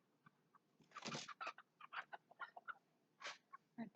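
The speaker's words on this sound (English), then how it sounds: "My birds are acting up." Pet birds clucking and squawking, a string of short, sharp calls and one longer harsh squawk, close and clear against a quiet background.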